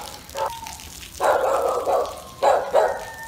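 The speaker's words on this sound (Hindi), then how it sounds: "उधर से वो कुत्ते निकले हैं, जैसे कि हमारे भी हिफाजत के लिए इन्होंने रखे होते हैं" Several dogs barking on a European dairy farm, loud and close, with a short bark followed by sustained rough barking bursts and two more barks near the end, no talking.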